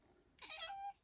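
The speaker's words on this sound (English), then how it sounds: "she is one of my 10 cats now" A single cat meow, close but fairly quiet, rising then holding for about half a second in an otherwise quiet room.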